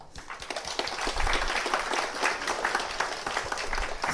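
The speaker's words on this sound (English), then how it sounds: "let's give applause to him" An audience at a Dart and Flutter tech conference applauds a speaker after his memory-leak talk, a steady dense patter of many hands for several seconds at moderate level.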